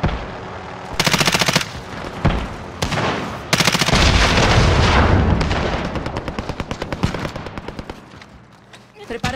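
Gunfire in a Call of Duty video game: loud, sustained machine-gun bursts with heavy booms and rapid rattling, continuing and fading slightly toward the end.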